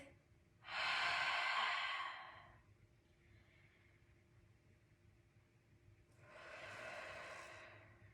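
Slow, relaxed breathing during a gentle mindful movement exercise: one long, soft breath lasting about two seconds, a quiet pause, then a second, fainter breath near the end, heard close and alone.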